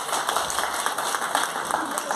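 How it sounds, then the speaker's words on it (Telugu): A group of old classmates at a friends' reunion clapping for their teachers, dense continuous applause for about two seconds with voices mixed in. "క్లాప్స్."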